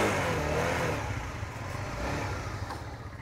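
A Honda CBR 150 motorcycle engine runs steadily close by, with a dense, buzzy drone that swells slightly as it is revved, and no one speaks.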